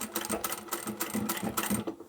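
A sewing machine runs in a steady rhythmic burst, stitching and backstitching through thick folded cushion cover fabric, close and moderately quiet with no voices.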